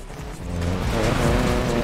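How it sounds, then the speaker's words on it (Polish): A car drifting in Need For Speed Payback, its tires squealing over a revving engine. The sustained, close screech holds and builds in loudness for under two seconds. "I tutaj też driftik będzie, czy nie będzie?"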